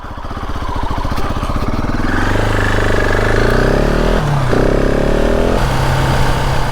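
A KTM 690 Enduro R single-cylinder motorcycle engine runs loud and close, its throbbing note rising smoothly as it revs, then steadying and dipping briefly before holding again.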